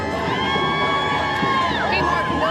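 Protest crowd cheering, whooping and chanting at cars driving past, a dense steady roar of many voices with rising shouts layered over one another throughout.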